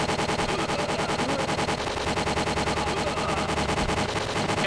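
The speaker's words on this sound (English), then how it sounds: "So we got this mounted turret here. And the game's like, hey man, there's a machine gun" A mounted turret machine gun in the N64 game Winback fires in one continuous, dense, loud stream of rapid shots that never pauses.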